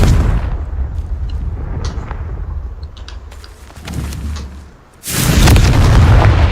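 The Confringo blasting spell in Hogwarts Legacy bursts out as a loud, sudden explosion late in the clip, following a dip in a steady rumbling game background dotted with small thuds.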